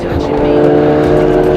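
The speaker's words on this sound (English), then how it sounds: "Just let this GT3 pass that's absolutely storming it down here." A GT3 race car storms past on the Donington Park circuit, its engine a loud, sustained roar heard from inside another car on track, with someone talking over it.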